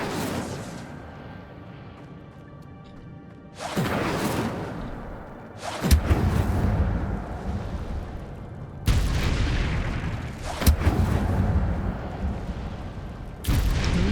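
Fire spell cast in Hogwarts Legacy, a series of loud whooshing bursts of flame, each erupting abruptly and then roaring for a couple of seconds before the next, four bursts in all with no talk over them.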